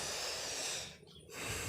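A sick goat with a cold, lying down alongside others suffering coughs and runny noses, gives a breathy snort with a hissing exhale, close by, with a brief pause before the breathing resumes.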